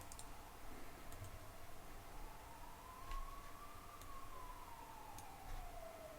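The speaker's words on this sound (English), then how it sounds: "Sounds like a whole fleet of ambulances is coming. It's just one, but it like echoes through the city." A single ambulance siren carries across a city, its faint wailing tone slowly rising and falling over steady low background noise, with a few soft clicks.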